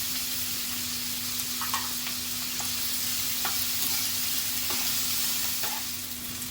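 Green chillies sizzle and crackle steadily in hot oil with asafoetida, stirred in a pan with occasional scrapes and clicks, close and continuous with no talking.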